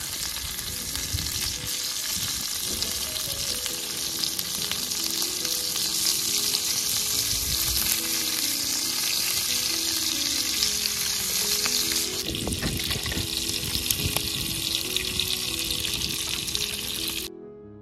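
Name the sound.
chicken tandoori frying in a pan, flipped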